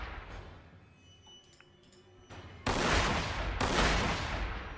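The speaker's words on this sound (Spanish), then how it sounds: "Bonitos disparos." Two sudden heavy blasts of gunfire in the video game Warhammer 40,000: Sanctus Reach erupt after a quiet stretch of faint ticks and clinks, each burst loud and rumbling before fading.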